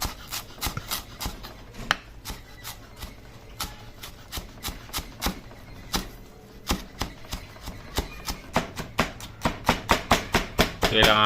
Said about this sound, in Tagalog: Slice tayo ng onion leaves, nilalagay natin.